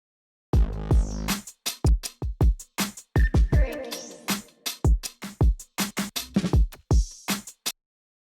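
Dry drum bus from a hip-hop beat with no effects, a steady pattern of kicks, snares and hi-hats in a tight repeating rhythm, clear and alone.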